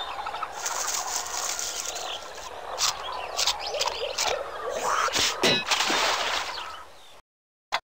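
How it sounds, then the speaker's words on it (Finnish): Loud howler monkey calls from a tropical rainforest: rough roaring bursts rise and fall over several seconds, then cut to silence before one last brief burst. "Mölyapina on eläinmaailman kovaäänisimpiä huutajia."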